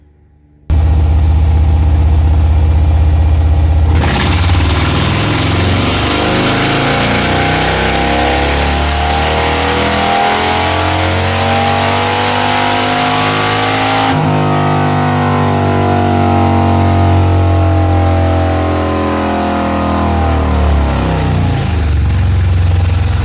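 A Harley Street Bob motorcycle with a new throttle body and exhaust pipe runs on a dyno, starting suddenly and then revving loud and close through a long rising pull before easing back.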